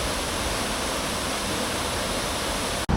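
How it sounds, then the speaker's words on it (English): Parit Falls in the Cameron Highlands roars as a steady, loud, broadband rush of falling water close by, unbroken until a brief dropout near the end. "I made it to the waterfall safely."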